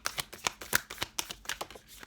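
Tarot cards are shuffled in quick riffling bursts, about a dozen crisp flutters in a fast, uneven rhythm, close up with no voices.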